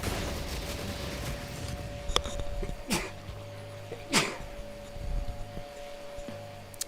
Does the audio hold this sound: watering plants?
no